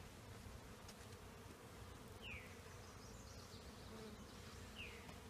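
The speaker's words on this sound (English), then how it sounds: "looks like we got a beautiful swarm of bees" A swarm of honey bees buzzing outdoors, a steady dense hum with occasional individual bees passing close by, continuous and fairly quiet with no talking.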